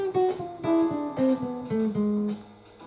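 Jazz recording, a saxophone line descending chromatically by half steps in short phrased notes over band accompaniment, clear and upfront without speech.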